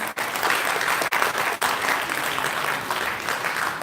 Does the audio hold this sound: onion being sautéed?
no